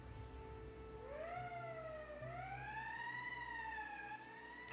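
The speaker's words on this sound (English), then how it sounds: "That's the emergency siren." A rising and falling emergency siren wails in the video game Valkyria Chronicles, sweeping upward in long steady tones over a low background hum, loud and continuous with no talking.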